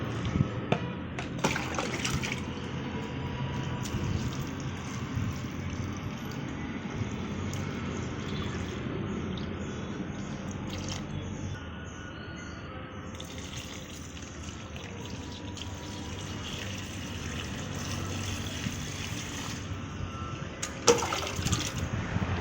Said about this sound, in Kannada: ಅದಕ್ಕೋಸ್ಕರ ಪಾಟ್ಗೆಲ್ಲ ನೀರು ಹಾಕೋತಾ ಇದ್ದೀನಿ